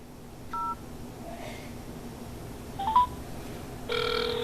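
Dialing tones from a HAMSWAN U18 Android smartwatch as a phone call is placed: a short pair of keypad tones, a brief chirp, then a steady multi-tone ring signal near the end, all clear and close over a quiet room hiss.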